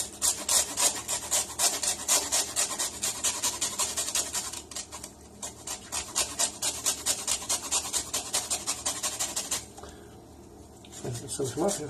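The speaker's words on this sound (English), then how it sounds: "some lime zest" A lime is rubbed over a grater to zest it for a seared ahi tuna dish, giving quick, rhythmic rasping strokes that are loud and close, with a brief pause before a final few strokes.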